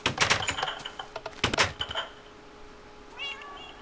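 Meows from a cat in a Minecraft game arrive in quick bright bursts alongside clicking and thudding game sounds, then a fainter meow follows after a short lull.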